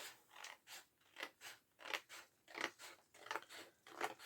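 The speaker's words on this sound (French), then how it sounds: "Je vais juste venir couper un tout petit peu." Scissors snip through paper for a handmade Christmas album, about ten quick crisp cuts in a steady rhythm, close and fairly quiet with no voices.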